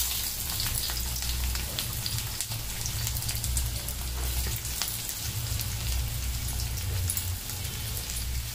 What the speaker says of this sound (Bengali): তেলটা একটু গরম হয়ে গেলে এতে দিয়ে দিচ্ছি পেঁয়াজ